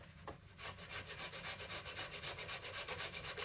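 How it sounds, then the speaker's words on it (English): A yew bow being scraped during tillering makes steady rhythmic rasping strokes, several per second, close and continuous with no talk. "for the most part, it's just quite laborious, boring scraping"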